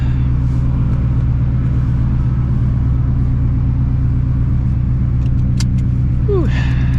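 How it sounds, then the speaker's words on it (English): A supercharged Shelby GT350 Mustang of about 800 horsepower idles steadily while warming up, a loud, constant low rumble close by, with a brief squeaky sound near the end. "I'm gonna let this car warm up."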